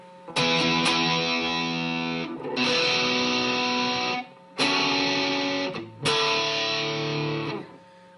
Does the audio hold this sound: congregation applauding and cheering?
no